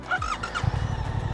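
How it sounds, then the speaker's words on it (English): A 2023 Suzuki GSX-8S motorcycle engine starts with a brief whine after a single button press, then settles into a steady, low chugging idle close by. "which is fun because you press once and it starts the bike"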